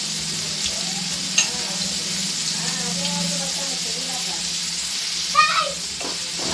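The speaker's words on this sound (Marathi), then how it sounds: "तेलामध्ये हे करून घेणार आहे, खालीवर परतून घेणार आहे." Eggplant bharit frying and being stirred in oil in a pan, a steady close hiss with a couple of sharp scraping clinks of the spoon, while someone talks over it.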